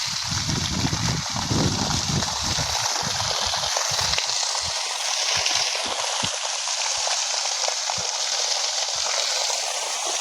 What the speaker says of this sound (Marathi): हे पहा पाण्याचं प्रेशर बघू शकता पहा